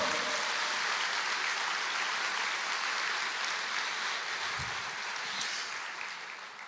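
A church congregation applauds the Lord during a sermon, a broad, even roar of clapping that fills the space and fades slightly toward the end.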